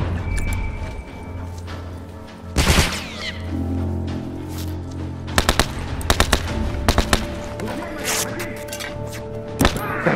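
Rifle and automatic gunfire rattle through a firefight in The Last of Us multiplayer, loud sharp bursts and single cracks spread across the whole stretch, with some impacts and thuds between shots.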